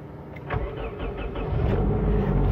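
A Suzuki Liana's engine cranks and catches, a short series of starter pulses giving way to a low, steady idle heard from inside the car.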